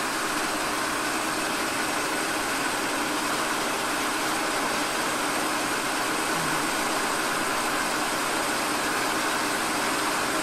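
A turret capstan lathe with a motorbike-gearbox drive runs steadily at about 700 revs, giving a continuous broadband mechanical whir and hum that holds evenly without pauses.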